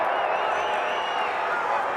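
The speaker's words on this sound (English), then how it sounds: "The crowd didn't like the stalemate call there." A college wrestling crowd at a 2017 Big Ten championship 125-pound bout groans and murmurs steadily in displeasure after a stalemate call, a broad, sustained arena roar with no distinct claps.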